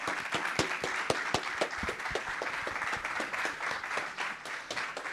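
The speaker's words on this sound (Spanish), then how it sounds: "Lo despedimos con un enorme aplauso" A debate audience applauds a guest steadily, dense clapping filling the room for several seconds with a few sharper claps standing out, no talking over it.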